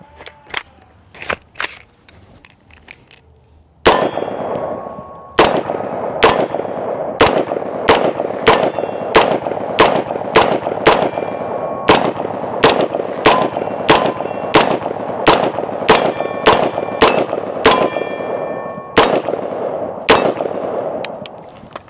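Shots from a 7.5-inch AR pistol firing Winchester ammunition, about twenty loud, sharp cracks in a steady, evenly spaced string, each with a brief ringing tail, preceded by a few fainter clanks.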